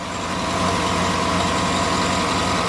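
A 2008 Cadillac Escalade ESV idles steadily nearby, its engine giving a smooth, even low hum with quiet headers and exhaust, and no knocks or ticks.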